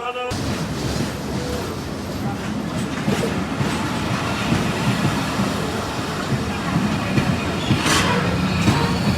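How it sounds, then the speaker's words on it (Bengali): The Rocket Mail train, which started from Khulna, rumbles loudly and continuously with faint wheel clatter and an occasional high squeal, heard close from on or beside the railway, with a voice speaking briefly over it. "এটা হচ্ছে রকেট মেল ট্রেন খুলনা থেকে ছেড়ে আসলো"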